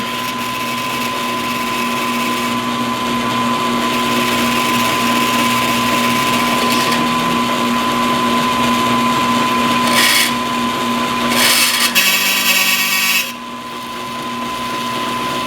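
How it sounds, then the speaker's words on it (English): A power drill bores through both steel layers of an AK rifle build's center support, a steady loud whine that continues for several seconds before dropping off near the end. "Your drilling is done."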